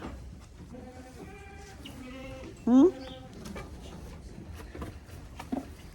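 A goat gives a short, wavering bleat amid quiet outdoor noise, with a few other faint animal calls and murmured talk in the background.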